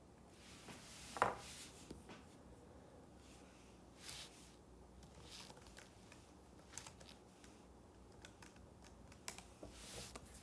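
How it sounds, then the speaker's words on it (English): Soft, quiet key taps on a calculator come in scattered irregular clicks across the stretch, one sharper tap early, with no talking. "Let me get my calculator up,"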